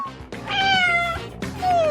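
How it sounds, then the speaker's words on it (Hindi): A cat meows loudly and close by, giving two drawn-out, wavering meows in quick succession with no other sound. "कितनी प्यारी बिल्ली है"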